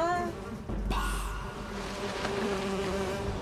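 Dense insect buzzing from a huge hornet nest in the jungle film Apocalypto, a steady droning hum with a low rumble partway through, loud and continuous with no talk over it.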